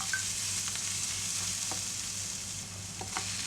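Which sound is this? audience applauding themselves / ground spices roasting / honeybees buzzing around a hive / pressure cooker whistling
ground spices roasting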